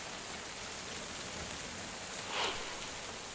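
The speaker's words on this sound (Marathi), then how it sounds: "आज पहाटेपासून मुसळधार पावसाला सुरुवात झाली" Steady broadband hiss of heavy monsoon rain in Chandrapur district, Maharashtra, continuous and even throughout, with a brief louder swell of spattering near the end; no voices.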